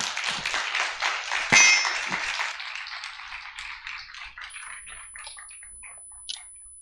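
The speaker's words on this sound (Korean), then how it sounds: "우리 박수로 우리 목사님 맞겠습니다" Church congregation claps in welcome for a visiting pastor, a burst of many hands applauding that swells briefly then thins out to scattered claps and fades away.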